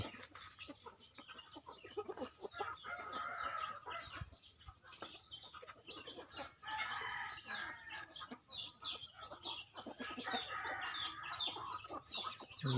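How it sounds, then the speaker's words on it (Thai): Chickens cluck and squawk in a noisy flock, some fighting, with busy overlapping calls and a rooster-like cry mixed in, heard from a short distance. "ไก่ทางนั้น"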